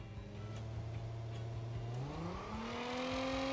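A car engine revs at full throttle with wheels spinning in the BeamNG.drive driving game, a loud sustained drone whose pitch climbs steadily through the gears, close and continuous.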